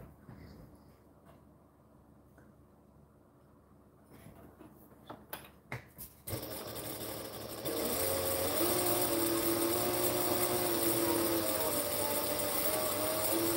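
A sewing machine runs at full speed to spread oil through its mechanism, starting after some quiet handling clicks and then whirring loudly and continuously up close for several seconds.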